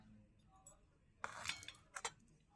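Quiet clinks of a serving spoon and plates as fried fish is placed onto a plate of rice for lunch, a few soft close taps and a brief clatter.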